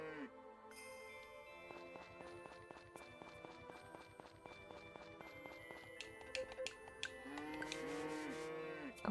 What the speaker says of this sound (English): Cows love to stack up on each other.